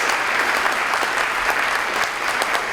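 Steady, dense applause from a convocation audience honoring students at an academic and leadership awards ceremony, a full room of clapping sustained evenly throughout without voices.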